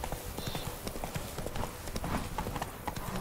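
Horse hooves clip-clop steadily in The Witcher video game, an even rhythmic trot of hoof beats under game ambience, close and continuous throughout.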